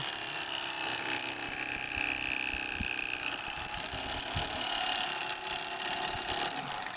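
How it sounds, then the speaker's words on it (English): An electric knife cuts down along a fish's backbone to remove fillets, its motor giving a loud, steady buzzing drone close up for the whole stretch, with a few dull knocks underneath. "I'm starting off with the electric knife, and as you fillet them, the secret's to go to the backbone and cut straight down"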